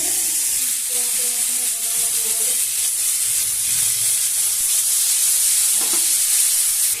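Potatoes and eggplant frying with turmeric, salt and ground cumin in a home kitchen pan, a steady close sizzle and hiss running throughout, with faint background tones and no speech.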